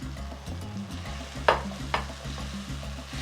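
Canned butter beans drop into a pan of sizzling spices, a steady fry crackle broken by two sharper splashing scrapes.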